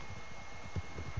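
Horse hooves clip-clop in a video game, a few soft, low thuds in quick succession over a steady background hum.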